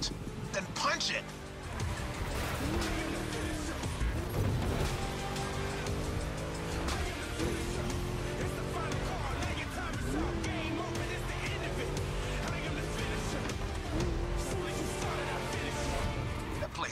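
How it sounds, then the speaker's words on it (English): Ford Mustang V8 in The Crew Motorfest, a deep, chunky engine note rising and falling through gear changes at speed, steady and loud, with someone talking over it. "Just listen to that V8, like a chunky, down-tuned guitar riff."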